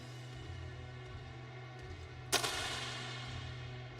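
A single sharp pistol shot cracks out at a Paralympic mixed 50m pistol SH1 shooting event in Tokyo, a sudden loud report followed by a short reverberant decay over a steady low arena hum.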